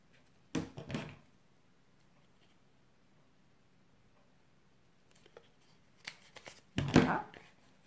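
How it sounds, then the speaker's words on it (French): Scissors snip a cross into a piece of recycled material for an Easter craft, a few short crisp cuts near the start and a louder cluster of snips toward the end, with quiet pauses between. "Et on va venir couper en croix."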